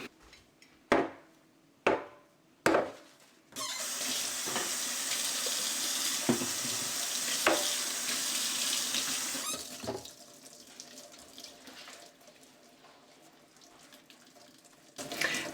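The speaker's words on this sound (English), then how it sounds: "I'm gonna go ahead and get these jars washed with warm soapy water." Canning jars are washed under a running kitchen tap with warm soapy water: a few sharp clinks and knocks, then a steady close rush of water for several seconds, then softer dribbling and handling sounds.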